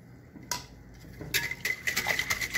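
A utensil stirs and mixes ingredients in a bowl, giving quiet, rhythmic clinks and scrapes that quicken into a steady tapping pattern, close by with no talking.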